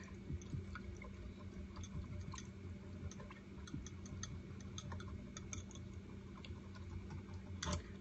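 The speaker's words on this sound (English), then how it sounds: "I'm going to give this a whisk." A sauce being whisked in a bowl for tempeh spring rolls, faint rapid ticking and light clicks of the whisk against the bowl, steady and quiet with a louder tap at the end.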